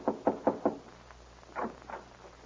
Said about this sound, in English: is voted to knock on the door and make the necessary speech